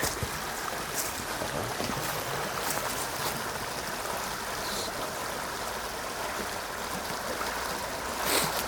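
Water flows steadily beside a hunting spot in the woods, a constant broad rushing wash close by with no talk, some brief brighter splashes rising now and then.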